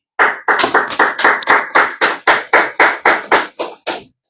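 Audience applause at a book launch in Bogotá: a run of about fourteen loud, close, evenly spaced claps, sharp and rhythmic, fading out at the end.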